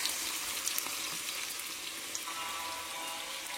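Chopped onions fry in a pan for chicken curry, making a steady close hiss and crackle of sizzling oil that runs evenly throughout with no talk.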